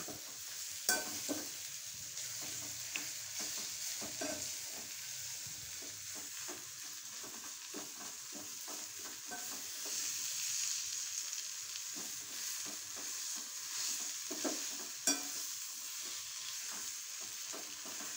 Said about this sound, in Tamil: துருவிய தேங்காய் போட்டு நல்லா கிளறணும்.